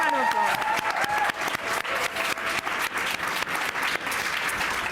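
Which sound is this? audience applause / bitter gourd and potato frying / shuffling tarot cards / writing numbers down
audience applause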